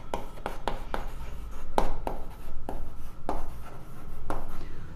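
A pen writing out a maths equation on paper: a series of quick scratchy strokes and taps in an irregular rhythm, close and clear, with no talking.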